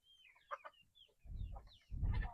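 Backyard chickens, a grown rooster and hens mixed in with chicks, give several short clucks close by, followed by two louder bursts of rustling, scratching commotion.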